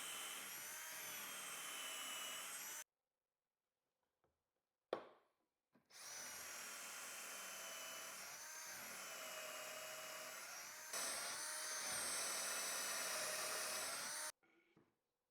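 Power drill boring Kreg jig pocket holes into oak, several sustained high-pitched whirring bursts separated by silent pauses, the last run slightly louder before stopping abruptly.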